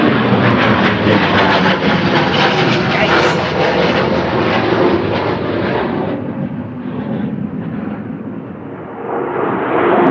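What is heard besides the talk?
fighter jet flying overhead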